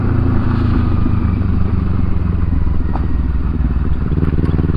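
A motorcycle rides over a track of loose stones, its engine loud and constant with rattling, crunching clatter from the surface underneath.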